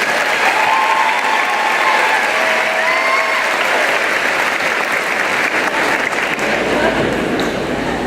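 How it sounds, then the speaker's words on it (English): Sustained applause from a large audience at a school district keynote welcoming new staff, steady and loud throughout with faint voices mixed in. "Let's give all of our new family members a big round of applause"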